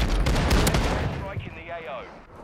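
Shotgun blasts in Warzone 2.0 on Ashika Island, a rapid burst of loud booming shots with game action sounds and a player talking over them.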